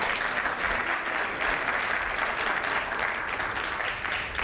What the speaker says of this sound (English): They actually have earned that round of applause.